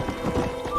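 Quick hollow hoofbeats clip-clop in a steady trotting rhythm, close up and moderately loud, a horse trotting in the video game Red Dead Redemption.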